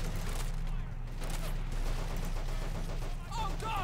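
Gunfire in Men of War: Assault Squad, a WWII strategy game with British SAS forces, rattles on continuously as a battle din, with bursts blending into a dense, steady wash of shots and distant booms.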